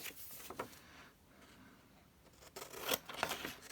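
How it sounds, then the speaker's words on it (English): Scissors trim excess paper from a handmade cover, with a few quiet, close snips and rustling paper. "And then we're going to cut the excess off."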